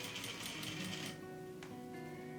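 A sewing machine stitches a dress lining with a quick, even mechanical chatter that slows and eases off partway through, heard close and alone, with a faint click near the end.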